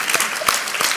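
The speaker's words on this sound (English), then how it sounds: "let's clap for it" Applause from a crowd at an Empire Club address by an Ontario premier, dense clapping throughout with a few sharper claps standing out, brief and moderately loud.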